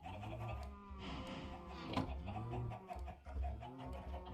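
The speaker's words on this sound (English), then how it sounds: "we got ourselves our stone chicken" Stone chicken in the Minecraft StoneBlock 4 modpack clucking repeatedly, soft bird calls layered over game background sound and a low hum, with no talking.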